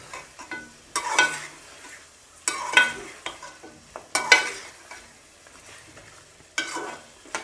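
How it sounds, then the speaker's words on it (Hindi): Mutton roasting in a pot with black pepper powder, stirred in distinct bursts: about five scraping strokes spaced a second or so apart over a faint sizzle. "अब हम इसकी 2 से 3 मिनट भुनाई करते रहेंगे"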